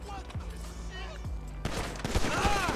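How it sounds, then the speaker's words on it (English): Gunfire aimed at the player in GTA 5 on a city patrol, sharp shots cracking near and loud in the latter half, with someone talking over the earlier part. "Yo, why are you shooting at me"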